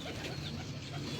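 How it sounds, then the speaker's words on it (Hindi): Pigeons kept on a rooftop loft of a Lahore pigeon fancier coo softly, a faint, low throaty murmur against quiet background ambience. "नवीर भाई के जो फेवरेट कबूतर हैं वो दिखा रहे हैं"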